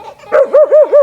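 A dog barks in a short burst of four clear, close, evenly spaced yaps near a bush outdoors, with no talk over them.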